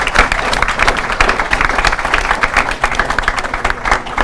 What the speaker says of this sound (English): can I get a huge round of applause for our 4 panelists today?